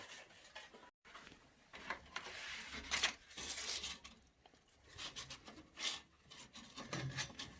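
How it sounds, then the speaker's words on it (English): A 60 grit sanding belt grinds a bushcraft knife blade, a steady rasping scrape that swells and fades in repeated passes, fairly close and continuous. "So this is the 60 grit going on now."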